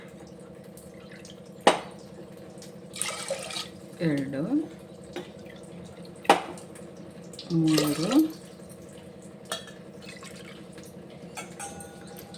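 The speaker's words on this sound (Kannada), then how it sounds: "ಈಗ ನೀರು ಹಾಕೋಣ. ಇದೇ ಬಟ್ಲಲ್ಲಿ" Water is poured cup by cup into a kitchen pot of washed lentils for tomato bele bath, giving several short splashing pours a few seconds apart, with someone talking between them.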